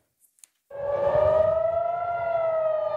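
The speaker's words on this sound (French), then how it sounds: "Dans le hurlement des sirènes" Air raid sirens wail during an Iranian missile attack on Israel at night, a loud sustained rising then steady howl starting abruptly after brief silence and holding without pause.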